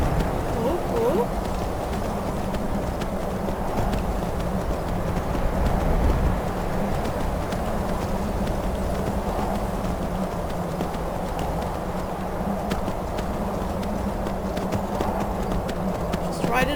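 Rhythmic clip-clop of horse hooves galloping across terrain in the video game Skyrim, a steady repeating beat with game music or ambience underneath, continuing for the whole stretch.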